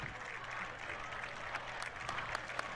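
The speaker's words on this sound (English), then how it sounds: "And you hear the crowd there." Applause from a high school varsity football crowd, a steady broad patter with a few sharper claps standing out, somewhat distant and continuous throughout.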